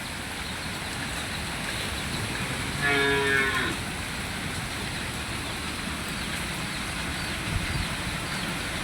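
A cow being led to graze in the rain lets out a single clear moo lasting about a second, set against a constant hiss of rainfall.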